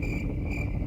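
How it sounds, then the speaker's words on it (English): Crickets chirp in a quiet One Piece anime scene, a steady high-pitched trill over a low rumbling background, constant and fairly close for under a second. "Yeah, crickets."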